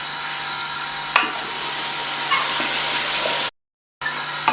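Onion, garlic and ginger paste sizzles steadily in hot oil, a close, continuous frying hiss with a few light stirring scrapes, briefly cut off by a second of silence before resuming.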